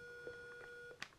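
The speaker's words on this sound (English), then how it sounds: "We get a beep." A Commodore PET joystick test cartridge gives a short, steady electronic beep when the fire button is pressed, thin and fairly quiet, followed by a faint click near the end.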